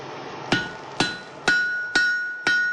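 A hammer strikes hot wrought iron five times at a steady, even pace to forge weld it, each blow a loud, close, ringing metallic clang that decays before the next, with no talk.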